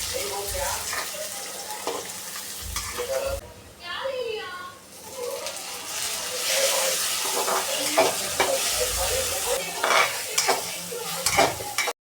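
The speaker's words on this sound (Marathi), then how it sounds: "त्यानंतर आता पटकन याला फोडणी देते." Cut eggplant, onion and tomato sizzle as a tempering fries in a hot pan, with steady crackling hiss and clattering stirring throughout, briefly interrupted by a softer gurgling moment, and a voice occasionally heard underneath.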